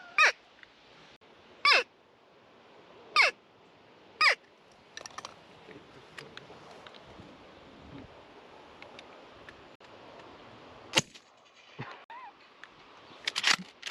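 Crows caw in a rural paddock during crow shooting, a few loud, sharp calls in spaced bursts near the start, then scattered fainter caws and one strong call later against a soft outdoor background.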